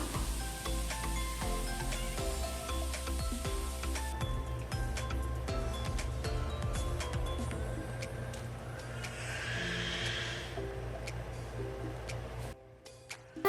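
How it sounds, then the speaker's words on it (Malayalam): A Malayali fish curry gravy bubbles and hisses steadily in a pot as fish pieces are dropped in, a soft continuous simmer with faint clinks, ending abruptly. "ഈ ഒരു ടൈമിൽ നമ്മൾ മീൻകറിയുടെ ഗ്രേവിയൊക്കെ നല്ലപോലെ തിളച്ച് വന്നിട്ടുണ്ടായിരുന്നു"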